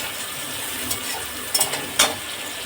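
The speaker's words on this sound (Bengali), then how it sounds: "পেঁয়াজটা একটু লাল করে ভেজে নেবো" Onions fry in oil in a pan with a soft, steady sizzle, broken by a few sharp scrapes and clatters of stirring, close and fairly quiet.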